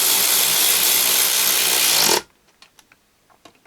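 Power tool running steadily while tightening bolts on a motorcycle engine casing, a loud continuous whirring buzz that stops abruptly after about two seconds, followed by a few faint clicks and taps.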